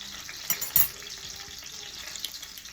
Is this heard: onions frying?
yes